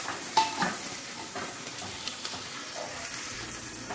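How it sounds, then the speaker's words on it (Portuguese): Onion and garlic frying in a pan while being stirred, giving a steady soft sizzle with scraping stir sounds and light clinks throughout, close and moderately quiet. "liga a panela, coloque a cebola, um pouquinho de alho, deixa dar uma douradinha"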